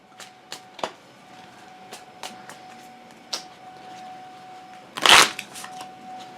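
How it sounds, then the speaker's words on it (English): A deck of Onirim cards handled on a table: scattered soft taps and flicks, then one loud riffle-shuffle burst near the end, close and without talk. "I gotta reshuffle once more and draw up to my full 5 hand size"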